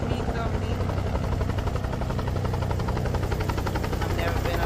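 A helicopter coming in to land, its engine and rotor drone steady and loud throughout under a broad wash of noise, with voices faintly mixed in.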